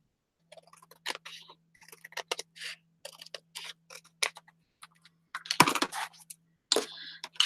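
Scissors cutting junk journal paper, a series of short crisp snips and paper rustles in quick bursts, close and fairly quiet, with a faint steady hum underneath.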